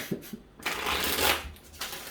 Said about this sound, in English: I'm going to give this 3 shuffles here